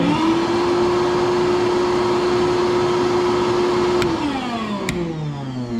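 A blast cabinet's vacuum makes a steady, loud mechanical drone throughout, then its pitch slides downward near the end as the motor winds down.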